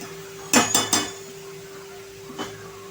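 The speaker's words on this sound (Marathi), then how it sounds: "आता आपलं 2 मिनिटं आपण ओलं खोबरं परतून घेतलेलं आहे" A spoon knocks and scrapes against a pan as grated fresh coconut is sautéed in ghee for ukadiche modak filling: three quick close metallic clinks, then a single fainter one after a pause.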